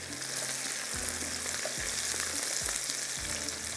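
Thick-cut onions fry in oil with a loud, even crackling sizzle, broken by a few soft low bumps as the pan is moved.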